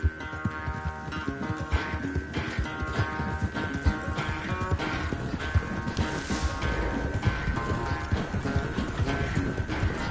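Horse hooves clip-clop at a steady trotting rhythm in the video game Red Dead Redemption 2, close and continuous over ambient game sound and a sustained musical tone.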